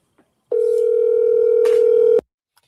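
A single steady telephone dial tone sounds loud and close for under two seconds, then cuts off abruptly, with near silence before and after.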